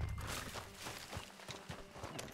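Horse hooves gallop in a video game, a steady rhythmic clip-clop of several hoofbeats under a constant wash of game background noise.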